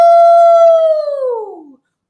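A single human voice imitates a dog's howl, one long sustained 'ow' held steady and then sliding downward in pitch as it fades out, loud and close.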